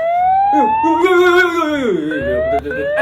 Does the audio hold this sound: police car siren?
yes